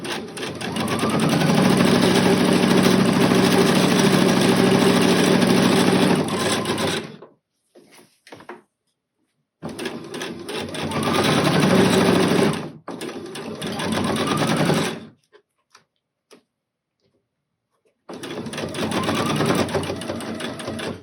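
Sewing machine stitching fabric shut over elastic while making an African dress, running in three loud sustained bursts separated by pauses of near silence.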